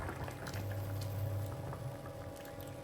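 Chard boils in a pot of water with lemon juice on a gas stove, giving a steady, soft bubbling and simmering wash throughout, fairly quiet and uninterrupted.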